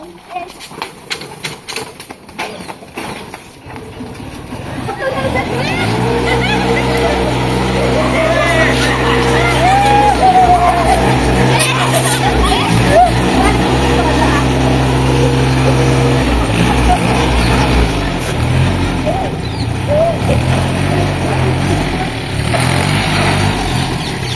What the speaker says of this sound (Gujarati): ફાઇનલી મિત્રો આપણું ટ્રેક્ટર જે શરૂ થઈ ગયું છે